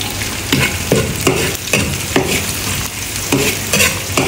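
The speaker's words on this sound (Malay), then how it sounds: "Kita tumis dulu." Shallots, garlic and ginger being sautéed in hot oil for fish soup, loud close sizzling with rhythmic scraping stir strokes about every half second.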